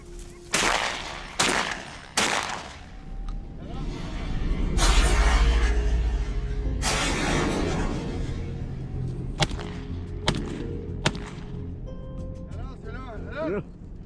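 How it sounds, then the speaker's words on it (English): Sharp gunshots ring out across a swamp during a wild boar hunt, several loud cracks spaced irregularly with echoing tails, set against rustling and a murmur of background activity. "Then gunshots echoed across the swamp."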